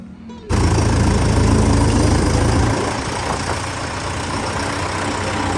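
A tractor engine idles loudly and close by in the Punjab countryside, a steady heavy diesel rumble that starts abruptly and eases slightly in level partway through, with no talking.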